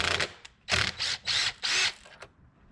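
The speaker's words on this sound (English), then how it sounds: "Get these 2 bolts off," A hand ratchet loosens 7mm bolts under the hood of a Lincoln MKZ Hybrid, with several quick bursts of close, crisp clicking separated by short pauses, plus a couple of lighter single clicks.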